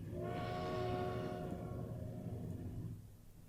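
A train in the video game Transport Fever sounds a loud sustained horn over rolling rail noise, the horn cutting off after about a second and a half while the rumble fades.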